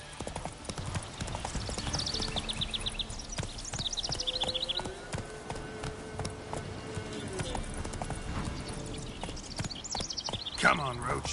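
Roach the horse galloping in The Witcher 3, hooves clip-clopping in a steady rapid rhythm close by, with a voice talking over it and a brief louder thump near the end.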